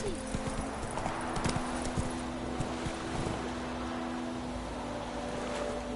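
Horse hooves clip-clopping at a steady gallop in The Witcher 3 game, a constant rhythmic patter over a continuous wind-like ambient bed with faint tonal hum.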